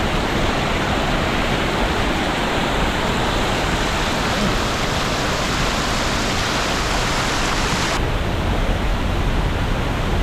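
Waterfall near Dumaguete, Philippines, a loud, continuous rushing roar of falling water filling the whole clip, close and steady, with the sound shifting slightly near the end.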